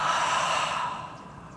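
A single deep, breathy exhale during a yoga flow, close and clear, tapering off over about a second and a half.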